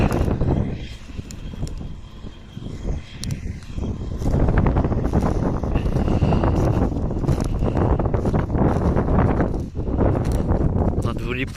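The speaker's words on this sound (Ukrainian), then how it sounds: "Похолодало вже, вітер сильний." Strong cold wind over a ploughed field buffets the microphone with loud, continuous low rumbling gusts that swell and persist throughout.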